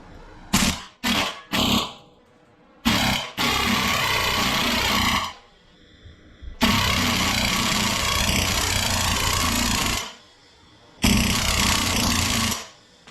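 Impact wrench driving a strut bolt and nut on a Trailblazer SS during a lowering-kit install, loud close bursts of rattling hammering, first several short blips, then long sustained runs separated by silent pauses.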